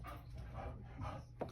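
A hyperactive dog pants and gives soft, excited whimpering barks in a room, faint and somewhat distant, in a few quick bursts over a low background hum.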